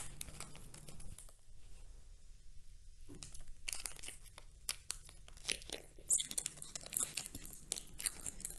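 Crinkly plastic tearing and rustling as a merch packet of IVE Magazine goods is ripped open during an unboxing, with a short quiet stretch before bursts of crumpling and crackling, close and fairly soft.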